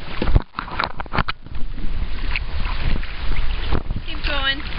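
A small boat is paddled across open water, with broadband wash and splashy strokes under steady wind buffeting on the microphone, and a brief voice near the end.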